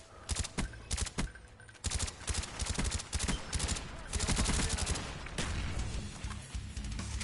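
Rapid bursts of automatic gunfire from an online multiplayer first-person shooter match, loud and dense, with repeated volleys and short gaps throughout.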